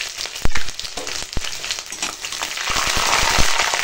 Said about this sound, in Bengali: কাঁচা লঙ্কা আর তেজপাতা আর দিয়ে দিলাম 5 ফোড়ন।